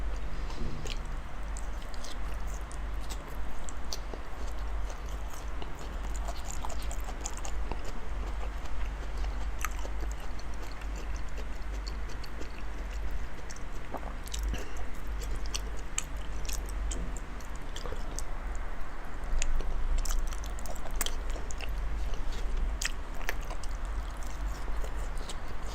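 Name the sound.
chewing and biting large pieces of salmon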